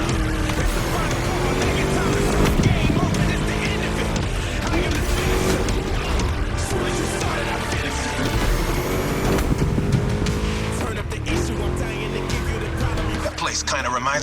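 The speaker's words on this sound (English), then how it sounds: "Just listen to that V8 like a chonky, down-tuned guitar riff." A V8 engine in The Crew Motorfest revs and accelerates continuously with a loud, throaty, rumbling growl during a racing lap, shifting pitch through gear changes, with a voice talking over part of it.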